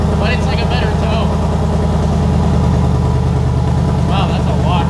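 Ford Mustang GT with a Whipple supercharger and Valvetronic Designs active exhaust idling on first start-up, a steady low burble running the whole time while people talk over it.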